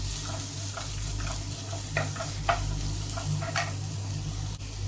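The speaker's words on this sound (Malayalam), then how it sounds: "ഇത് ചേർത്ത് കൊടുത്ത് നന്നായിട്ട് ഇളക്കി ചേർത്ത് കൊടുക്കാം" Garlic, ginger and green chili stirred in a hot pan for chicken thoran, a steady sizzle running throughout with a few scraping stirs of the spoon against the pan; no talking.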